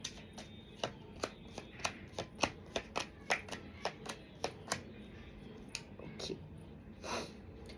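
Tarot cards are shuffled close by in a run of about fifteen crisp, evenly spaced riffling snaps, followed by a softer rustle near the end, quiet and with no speech.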